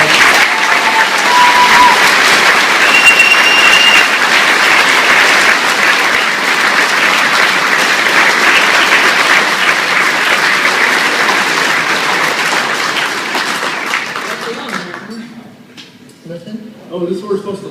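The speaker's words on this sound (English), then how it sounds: "big round of applause to you guys." Sustained audience applause at a fan convention Q&A panel, loud and steady for about fourteen seconds before thinning out to scattered claps and a few voices.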